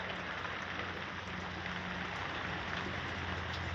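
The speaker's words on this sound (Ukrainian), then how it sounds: "Дивись там дощ іде, капає," Steady rain patters down as a constant, even hiss, with no talking over it.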